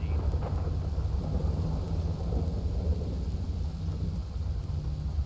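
A night thunderstorm with steady heavy rain and deep rumbling thunder rolling continuously, loud and close throughout.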